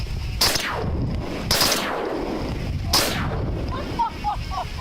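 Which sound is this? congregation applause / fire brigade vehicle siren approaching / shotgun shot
shotgun shot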